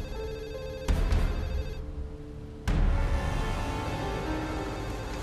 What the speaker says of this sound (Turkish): Telefon çalıyor, koş.